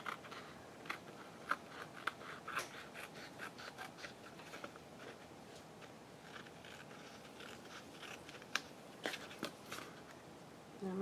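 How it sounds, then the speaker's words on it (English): Scissors cut through paper while a tag is made from sewing pattern instructions, producing quiet, irregular snipping and crisp clicks over faint rustling, close up with no talking. "Scissors will be sticky."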